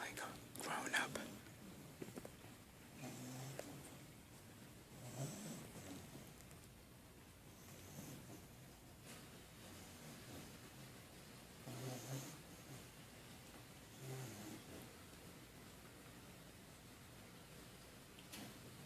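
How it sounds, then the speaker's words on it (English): Pitbull puppy snoring softly, faint breathy snores repeating every few seconds in a quiet room, with a person whispering over some of them. "Listen to the way that this dog snores like a grown-up."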